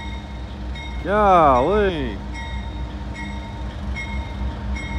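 A train on street-running tracks passes close by with a steady rumble and rolling noise, and a short wavering horn blast sounds early on. Someone speaks briefly.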